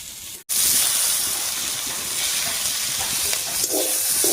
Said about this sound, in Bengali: এবারে বাটা মশলাটা দিয়ে দিচ্ছি